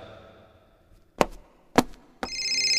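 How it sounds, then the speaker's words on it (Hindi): Two sharp knocks or chops are followed by a phone starting to ring, a steady electronic tone that continues to the end. "राशिद का फोन है।"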